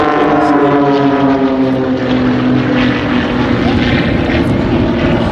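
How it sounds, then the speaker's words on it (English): Extra EA300L aerobatic propeller plane roaring overhead during a formation display at an air festival, a loud steady engine drone with shifting pitch throughout, no talk. "Number 4 has assumed the lead as Mark rides his extra EA300L around the smoke."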